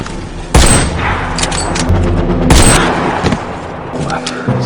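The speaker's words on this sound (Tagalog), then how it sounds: "Kahit 200 metro ang layo ng target, napatumba niya ito sa isang perpektong putok." Loud gunfire from a sniper rifle in a film, with sharp broadband blasts around the half-second mark and again near two and a half seconds, followed by rumbling echoes and scattered smaller impacts.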